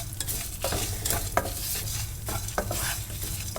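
Black pepper, dried red chillies and curry leaves fry in a pan, giving a steady sizzle with repeated scraping stirs of a spoon at close range and no talk.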